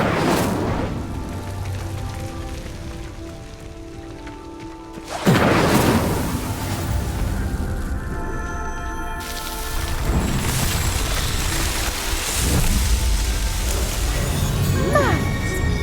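Incendio fire spell igniting pyres in Hogwarts Legacy, heard as sharp whooshing bursts of flame, one loud ignition midway and another later, over a roaring, crackling fire bed that swells and fades.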